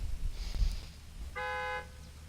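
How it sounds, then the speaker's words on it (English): A single short car horn toot sounds briefly from a car at a roll-racing qualifying start line, following a low rumble of an engine idling nearby. "you may honk and then go"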